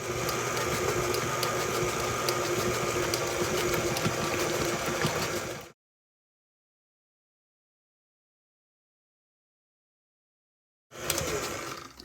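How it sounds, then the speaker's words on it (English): A stand mixer hums and whirs steadily while eggs go into pound cake batter. The drone runs unbroken, drops to complete silence, then starts up again near the end. "I don't like to turn my mixer off as I'm adding my eggs"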